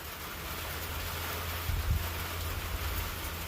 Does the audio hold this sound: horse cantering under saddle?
no